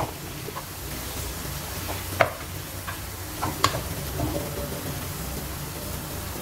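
Tomatoes stirred into chicken curry in a pan, with a quiet simmering sizzle and a few sharp spoon scrapes and taps against the pan.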